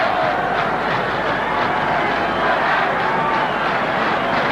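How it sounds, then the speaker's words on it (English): West Ham football supporters at a 1964 match against Tottenham Hotspur chant and clap together, a loud, dense, continuous wall of crowd noise filling the ground. "And it's West Ham chanting and clapping"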